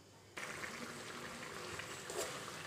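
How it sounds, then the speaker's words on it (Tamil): Bitter gourd curry (pavakkai kulambu), a Tamil tamarind stew, boils in a pot on the stove, a close, steady bubbling hiss that starts abruptly and continues evenly. "நல்லா கொதிக்கட்டும்."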